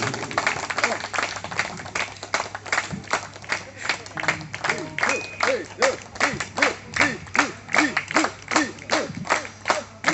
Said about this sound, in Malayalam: ഒരു കൈയടി കൂടി.